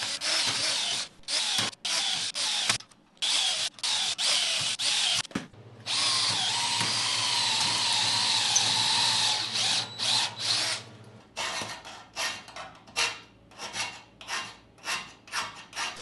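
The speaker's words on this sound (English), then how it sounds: "piercing pilot holes and then drilling them out to final" A power drill bores out pilot holes in metal battery case parts for a Jeep EV conversion. It comes in short whirring bursts, then one long sustained grinding run, then quicker stuttering pulses, all loud and close.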